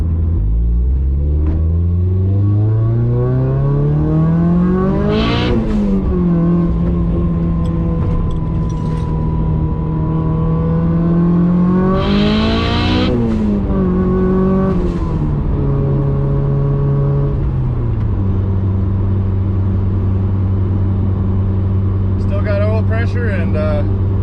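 A Mitsubishi Evo 8 GTR with an ACT clutch and a 6466 turbo accelerates hard through several gears. The engine note climbs in loud, rising sweeps, drops briefly at each shift, then climbs again. Heard from inside the car, with talking over it.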